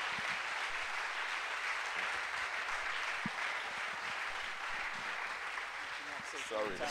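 An audience applauds to welcome a speaker at a bilingual French-English gathering, a sustained, even roar of clapping with a voice speaking over it near the end.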